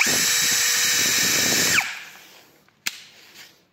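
An INGCO CDLI205582E cordless drill whirs steadily at low speed in first gear for nearly two seconds, then winds down and stops; a sharp click follows in the quiet.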